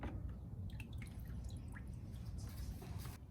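Engine oil dripping from the drain plug hole of a Toyota AE86 into a bucket, heard as faint, scattered drips over a steady low background rumble.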